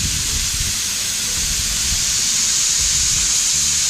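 Jamaican fowl simmers in a pot with a close, loud, steady hiss and sizzle that never lets up.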